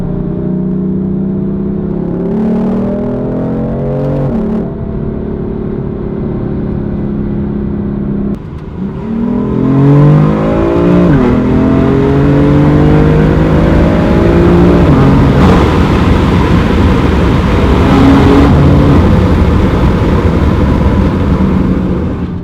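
A BMW M4 engine revs hard inside a tunnel, heard from outside the car, its rising and falling pitch sweeps repeating as the loud, reverberant roar builds and holds close by with no talk.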